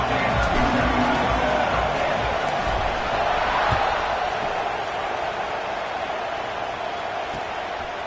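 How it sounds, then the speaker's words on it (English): Dense, steady roar of a stadium crowd buzzing at a college football game just after a score, loud and continuous throughout with faint voices mixed into the din. "this crowd is buzzing after that last score"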